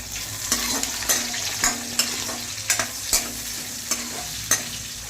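Onions frying in hot oil for a drumstick-leaf fry, with a steady sizzle and repeated scraping strokes of a spoon stirring the pan, close and fairly loud, no voices.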